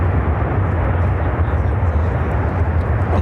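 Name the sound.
United Airlines Boeing 767-300ER landing at Chicago O'Hare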